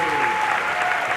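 An audience at a Harvard graduation ceremony applauds a comedian's commencement speech, a dense, continuous roar of clapping from a large crowd, loud and close throughout.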